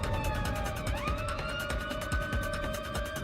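Police car siren wailing during a road pursuit, a loud rising and falling tone sweeping continuously over engine and road noise, close and dominant throughout.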